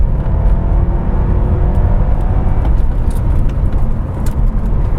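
A BMW F10 M5 under hard acceleration produces a loud, dense engine roar with a deep low rumble and faint rising harmonics, sustained close-up over several seconds without any talking.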